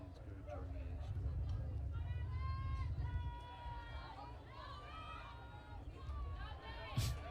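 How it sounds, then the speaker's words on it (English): German supporters chant at a women's lacrosse match in Baltimore, with their sung voices rising and falling rhythmically over a steady crowd murmur while a commentator talks over them. "the chant that you hear from the German fans"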